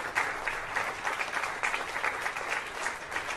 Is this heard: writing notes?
no